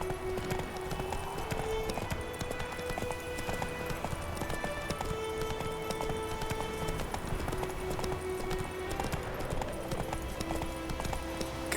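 Roach the horse trots through The Witcher 3, hooves clip-clopping in a steady, even rhythm close by under quiet game music, with a faint whinny and little talk.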